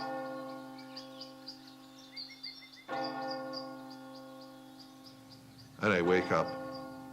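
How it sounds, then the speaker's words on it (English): Church bells ring in a steady sustained peal with long ringing overtones, fairly clear and resonant, while someone briefly speaks over them near the start and again later. "I hear church bells"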